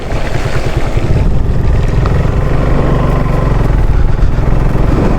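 A motorbike rides slowly through the rain on a hill road in Bandarban, its engine rumbling low and steady under a constant wash of rain and wind noise, with no talk.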